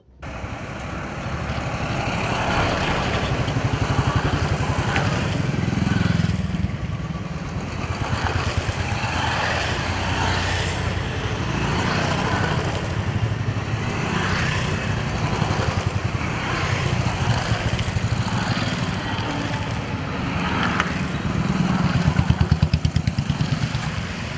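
Motorcycles ride by in a Gandhi Jayanti anti-drug bike rally led by Janamaithri police, a continuous dense roar of many engines and traffic rumble that swells and fades slightly throughout.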